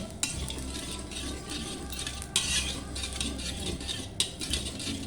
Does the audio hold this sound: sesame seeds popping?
yes